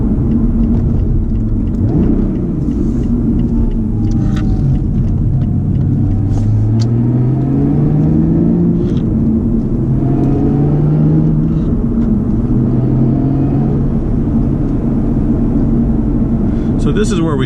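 Lotus Evora S GP Edition engine droning loudly from the cabin on a road drive, a steady rumbling tone that rises and falls with speed changes, with a person speaking over it.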